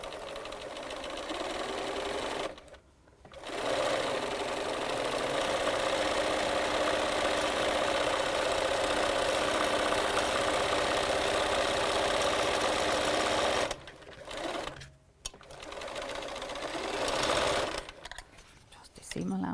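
A sewing machine stitches quilt seams in long, steady runs of fast mechanical whirring, close by, broken by two brief pauses.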